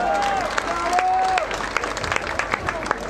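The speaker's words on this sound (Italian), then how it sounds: "fate un applauso a Tommaso" A crowd at an outdoor political celebration in Silvi, Teramo claps for Tommaso, scattered sharp claps under a voice speaking and brief whoops or whistles.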